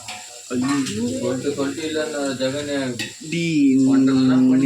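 Onions sizzle as they fry in a pan and get stirred, a close, steady hiss heard beneath people talking.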